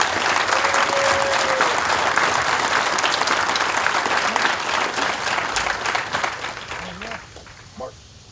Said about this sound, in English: please join me in giving our awardees another big round of applause